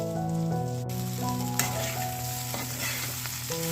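Potato and aubergine fry in a pan with a steady close sizzle and crackle, plus occasional stirring clatter, continuous and fairly loud without any talk.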